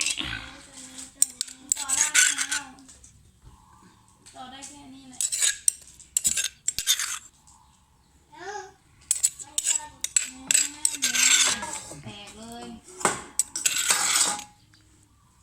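Repeated clinks and scrapes of a utensil scooping and stirring krachai juice in a kitchen, arriving in bursts with pauses between them, while someone talks nearby.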